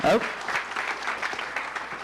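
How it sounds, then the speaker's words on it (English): An audience at a tech demo night applauds a presenter, a burst of clapping in a room with a voice briefly over it at the start, then settling into steady mid-level claps. "Round of applause for Ido."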